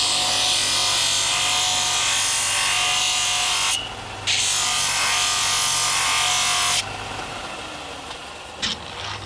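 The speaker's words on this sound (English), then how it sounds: "shape it up on this little linisher here. This is the linisher." A small linisher belt sander shapes a knife with a loud, steady abrasive grinding hiss, briefly lifting off the belt twice and then running lighter toward the end, close and continuous.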